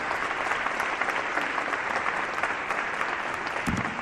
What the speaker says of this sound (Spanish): Un aplauso os pido para él.